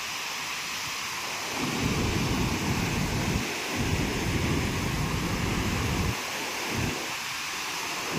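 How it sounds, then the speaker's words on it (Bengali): Water pours over the top of Dassam Falls, a broad, steady roaring rush that swells in and out in long surges, loud and continuous with no voices. "এটা একদম ওপরে, দশম জলপ্রপাতের একদম টপে, যেখান থেকে জলগুলো নিচে পড়ছে।"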